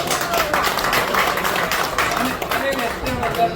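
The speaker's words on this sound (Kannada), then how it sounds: "ಅದಕ್ಕೆ ಜೋರ ಚಪ್ಪಾಳೆ" Audience at a Diwali devotional gathering for Sri Raghavendra Swami in Dubai claps loudly, a dense steady patter of applause mixed with crowd voices throughout the short stretch.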